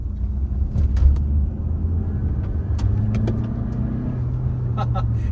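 A Renault Captur 1.3 TCe 140 hp mild hybrid engine hums low and steady from inside the cabin while driving, with road rumble, a few small clicks and a voice heard briefly over it.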